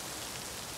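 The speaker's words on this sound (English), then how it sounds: "The rain is coming down now." Heavy rain falls steadily at night beside a sheltered balcony, a dense, even hiss with no other sounds standing out.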